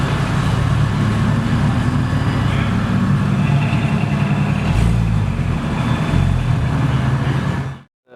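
A Porsche Turbo S sports car engine drives past on a road in a loud, steady roar lasting several seconds, mixed with heavy traffic rumble before cutting off abruptly at the end.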